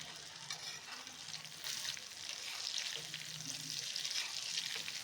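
Paneer cubes fry in oil over a low flame, a faint, even bubbling sizzle that swells slightly midway and holds steady, heard alone.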